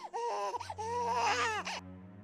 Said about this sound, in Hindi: बच्चे के रोने की आवाज, घर में जश्न का माहौल होता है।